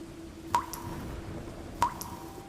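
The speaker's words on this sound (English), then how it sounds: "And behind me, the hiss of a drip." Two separate water drips, each a sharp plink with a short ringing tail, about a second apart against a faint hum, used as a horror-story sound effect.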